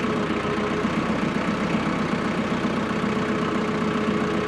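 A TYM 4820 tractor's diesel engine runs at a steady low rumble while slowly lifting a heavy load, droning close and constant with no voices.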